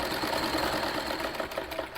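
Sewing machine running steadily while stitching a kurti, a continuous close mechanical whir with fine rapid needle rhythm and no voices.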